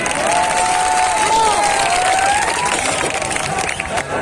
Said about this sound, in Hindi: आप लोग एक बार जोरदार तालियां बजाओ